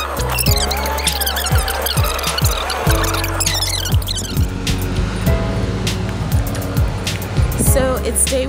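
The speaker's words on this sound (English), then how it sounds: "I don't feel like carrying my bags up this big hill to get to the library, so I am driving." Interior of a moving car on the way up a big hill, with a steady engine and road rumble throughout, tire and passing-vehicle swishes, and faint background chatter or radio sounds.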